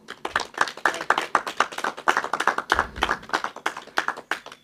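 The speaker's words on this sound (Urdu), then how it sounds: "میں ان کے لیے بھرپور چاہوں گا کہ آپ تالیاں بجائیں" Audience clapping at an Urdu book launch for a Hajj travelogue, a brisk round of many hands striking in quick irregular bursts, close and fairly clear with no talking.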